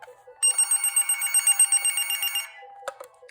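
An iSoHo corded phone's ringer, set to high, rings in one loud, close two-second burst of rapid electronic trilling, followed by a few faint clicks.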